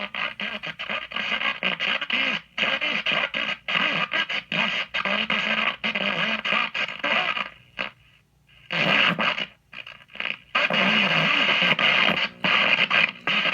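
A restored Westinghouse WR-13X5 radio plays an FM station at 106.7 MHz with a thin, crackly tone, broken by brief dropouts and gaps of silence, mid-loud and close.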